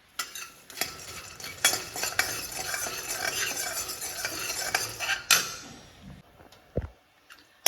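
Roasted peanuts are stirred in a hot pan to warm them, giving a dry rattling scrape with irregular clinks of a spoon against the metal, close and moderately loud, ending with a few sharp knocks.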